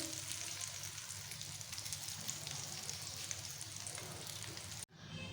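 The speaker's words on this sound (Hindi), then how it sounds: "इसी तरह हमारे दूसरे स्नैक्स भी फ्राई हो गए" Chicken and daal chana snacks frying in hot oil, a steady, close, loud sizzle that runs evenly throughout before cutting off abruptly near the end.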